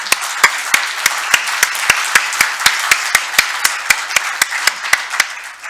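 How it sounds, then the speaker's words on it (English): At a Rotary club meeting with a holiday concert, a steady rhythmic clapping sounds like sharp, evenly spaced claps at a brisk pace over a soft bed of scattered applause, fairly close and clear. "So if we could give them a big round of applause, that'd be great."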